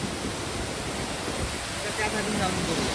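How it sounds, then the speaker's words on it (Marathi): Small waterfall below a dam at Phanasavale in Ratnagiri, water pouring over a short drop in a steady, broadband rush that fills the whole clip with no pauses. "थोडंसं उंचीवरून पाणी पडतंय तिथे आणि या धबधब्यात त्याचं रूपांतर झालेलं आहे"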